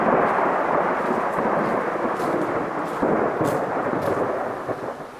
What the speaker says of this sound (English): We got a storm rolling in